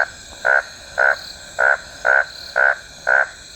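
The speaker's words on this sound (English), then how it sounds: "And there's a frog calling over there." A frog in Tayrona National Park, Colombia, calls in a steady rhythm, seven short nasal croaks evenly spaced about half a second apart, clear and fairly close against quiet background.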